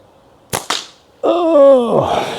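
A SimpleShot Carbon Fiber Axiom slingshot fires two sharp, close snaps in quick succession, followed by a sustained wavering vocal-like tone.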